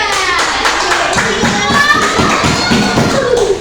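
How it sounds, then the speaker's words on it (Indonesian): Fifth-grade pupils in an elementary school classroom clap for a group, and the claps come through as uneven taps and thumps. Children's voices chatter over them the whole time. "Berikan aplaus untuk kelompok 2."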